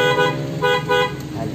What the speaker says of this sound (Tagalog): Tingnan mo yung busina.